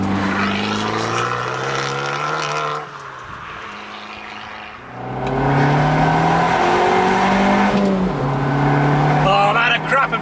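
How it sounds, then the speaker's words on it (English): An Abarth 695 Rivale with an Akrapovic exhaust howls loudly as it accelerates hard through the gears, the note rising, dropping briefly at a shift, then climbing again close by. "Oh, that Akrapovic exhaust just sounds brilliant."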